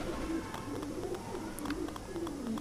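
Pigeons coo repeatedly in soft, low, rolling calls close by, one after another over a faint background murmur.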